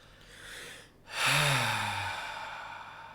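A slow exhale during a guided breathing exercise: a short breath, a brief pause, then a long, drawn-out audible sigh close to the microphone that fades gradually.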